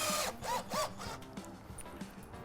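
A power drill driving countersunk stainless steel screws into composite hive board, with a short whirring run of the motor followed by quieter intermittent taps and buzzes.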